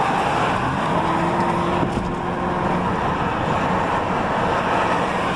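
A small Hyundai car's engine drones steadily from inside the cabin, a continuous loud rumble with road noise and a faint whining tone, with no talk over it.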